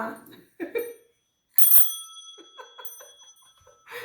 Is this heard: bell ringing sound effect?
yes